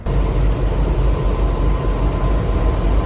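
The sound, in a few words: train at Adelaide terminus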